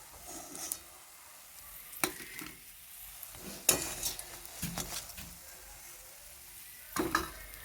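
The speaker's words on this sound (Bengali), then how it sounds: "এই যে আমি এক এক করে বড়াগুলো সব তুলে নিচ্ছি" Fried fritters are lifted one by one from a pan of hot oil with the gas switched off, a faint sizzle broken by sharp metallic clinks of a spatula against the pan at irregular intervals.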